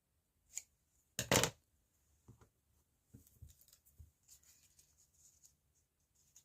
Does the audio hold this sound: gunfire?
no